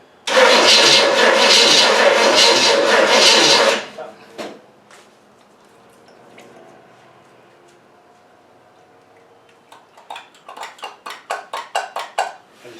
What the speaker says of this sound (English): Okay, give it a little crank.